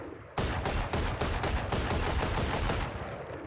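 Rapid automatic weapon fire from the video game Valorant, a loud, sustained burst of evenly spaced shots lasting about two and a half seconds. The burst starts abruptly after a brief quiet moment.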